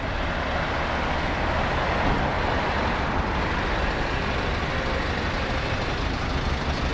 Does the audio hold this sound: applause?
no